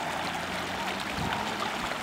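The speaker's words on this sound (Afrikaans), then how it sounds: "is dit tonne en tonne water wat hier uitkom. En het loop net af in die pad." Water gushing from a burst pipe on a suburban street runs steadily onto the road, a continuous rushing flow with no breaks.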